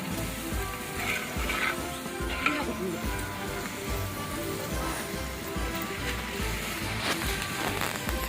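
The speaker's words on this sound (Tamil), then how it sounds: "இப்போ இது கூட அரைச்சி வச்சுருக்க இஞ்சி பூண்டு பேஸ்ட்டு பச்சை மிளகா சேர்த்து வதக்கிக்கலாம்." Onions frying in a pan with ginger garlic paste and green chillies for biryani, a loud continuous sizzle with occasional stirring scrapes, close up.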